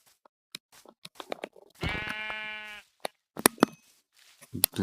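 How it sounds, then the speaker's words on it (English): A single sheep bleat from a Minecraft video game, a harmonic wavering cry lasting about a second, with game footsteps and small clicks before and after. "Oh, last sheep."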